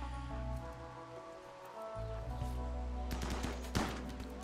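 Gunfire in the RimWorld video game, a quick cluster of sharp shots late in the moment over a steady droning background score.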